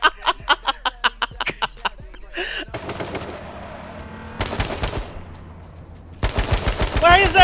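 Rapid automatic gunfire in a shooter video game: about eight evenly spaced bursts at the start, then a dense rattling stretch and louder volleys toward the end, under a busy game mix.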